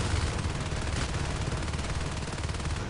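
Rapid automatic gunfire rattles steadily through a competitive shooter match, dense overlapping bursts at close range, loud and continuous with no pauses.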